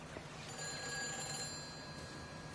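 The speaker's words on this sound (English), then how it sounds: "A ringing phone. Awful lot of ringing phones." Telephone ringing in the video game Everybody's Gone to the Rapture, a steady electronic ring with sustained tones repeating over about two seconds against quiet ambient background.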